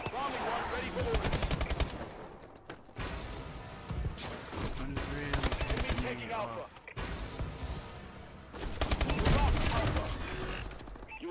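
Rapid automatic gunfire rattles in a Call of Duty: Advanced Warfare match, loud dense bursts with brief pauses in between and a voice talking over parts of it.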